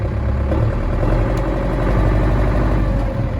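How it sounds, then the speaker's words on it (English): A tractor engine runs close by with a steady, heavy, throbbing note that stays loud and fairly constant throughout, without any obvious rise in pitch. "If I increase the revs"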